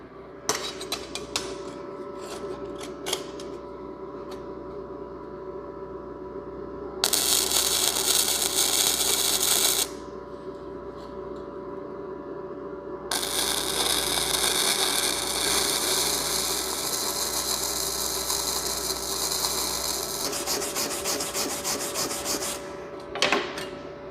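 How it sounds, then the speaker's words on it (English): Simder MIG-250D MIG welder laying tack welds on 16 gauge steel in a quiet shop, two bursts of loud crackling buzz, one short and one longer, between softer faint handling noises. "start off at like 16, maybe even we'll go 15 and a half to run some tack welds on the 16 gauge"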